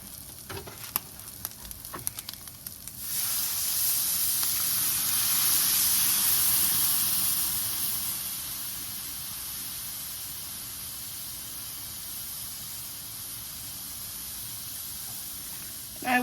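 Milk poured into browned flour for breakfast sausage gravy hits the hot pan with a sudden loud hiss that surges, holds for several seconds, then settles into a steady sizzle, after a few light clinks of stirring.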